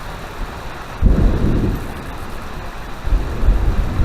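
Steady heavy rain hisses throughout while deep rumbles of thunder roll in twice, loud and close, during a severe storm at the I&M Canal near Lemont Quarries.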